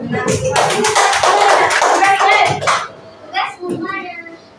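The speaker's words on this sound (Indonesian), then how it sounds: "Iya, tepuk tangan untuk Ahmad" Schoolchildren clapping for a classmate in a classroom, a short burst of brisk hand claps lasting about three seconds, followed by a few children's voices and a stray clap.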